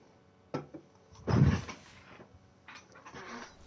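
A puppy in Hogwarts Legacy whimpers and yelps in a few short, close bursts, with a louder cry in the middle and softer ones after it.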